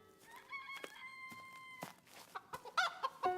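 Cartoon chickens cluck and squawk in quick, close bursts, some rising into short crowing calls, with a few soft footstep-like taps between them.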